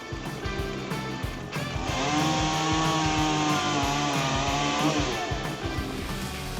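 A chainsaw, the Holtzformer 462, cuts through a huge tree, its engine running loud and steady and rising in pitch near the middle of the cut, with no voices present.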